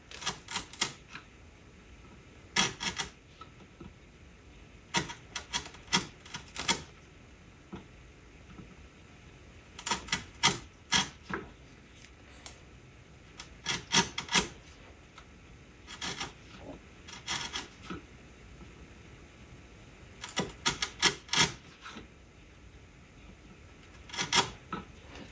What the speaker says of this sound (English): Use this 3/16 chisel and try to remove this waste out of here.